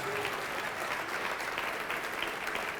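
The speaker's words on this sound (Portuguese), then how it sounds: "Vamos aplaudir mais ao nome de Jesus" A congregation at a Portuguese-language church service claps together in a dense, continuous round of applause, steady and fairly loud from start to finish without speech.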